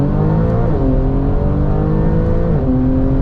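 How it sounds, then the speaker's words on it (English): A Porsche 992 Turbo S engine pulls hard, a loud continuous roar climbing in pitch, dropping briefly at two gear changes before surging again. "Go ahead and give it a nice acceleration here."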